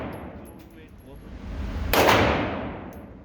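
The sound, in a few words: gunshots at shooting range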